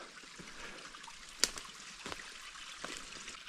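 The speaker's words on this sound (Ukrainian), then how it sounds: "Тут струмочок гірський." A small mountain stream trickles steadily through a forest, a faint, continuous wash with a few soft splashes and one sharp click standing out briefly.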